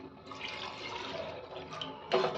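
Water splashes and gurgles steadily into a pan for a couple of seconds, with a brief louder gush near the end.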